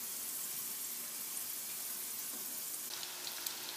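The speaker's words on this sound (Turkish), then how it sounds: "Patateslerimi kızarttıktan sonra aynı işlemi köfteler için de yapıyorum." Soft, steady sizzling of potatoes and meatballs frying in hot oil, a continuous fine crackle heard close up without any talking.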